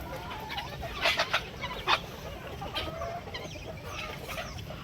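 Country chickens cluck and squabble while pecking at fish waste on a free-range poultry farm, a busy close chorus of short clucks with a few louder bursts.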